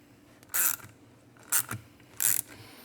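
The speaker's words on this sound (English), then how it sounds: "Switch our ratchet to tighten." A ratchet tightens bolts on a KS GTC bicycle fork in three short bursts of rapid clicking, each roughly a quarter second long, close and crisp against a quiet background.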